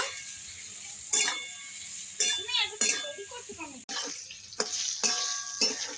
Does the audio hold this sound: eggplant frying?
yes